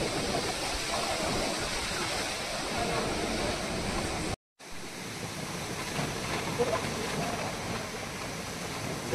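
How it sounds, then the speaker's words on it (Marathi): Flowing water runs beside a hillside temple, a steady loud rushing wash that briefly cuts out midway and then resumes. "तिथे मंदिराला लागून हे पाणी आहे, वाहतं पाणी"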